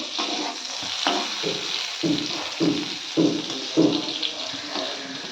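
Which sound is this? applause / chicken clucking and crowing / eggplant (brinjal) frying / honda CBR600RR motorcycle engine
eggplant (brinjal) frying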